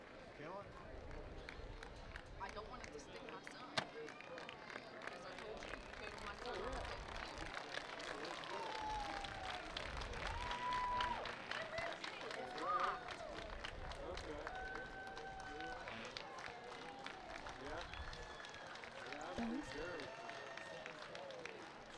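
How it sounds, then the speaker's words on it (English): Applause and crowd noise rise from spectators standing for the flag at a small-town farm day parade during the Preston County Buckwheat Festival, with scattered clapping and murmuring in the open air and a few high whistles. "People standing up and recognition of the flag and applause."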